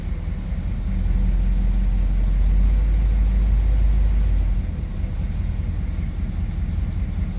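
A 1956 Ford Thunderbird, freshly started cold after choke work, idles with a steady, loud, low rumble that swells slightly during the first seconds and then holds even, with no voices over it.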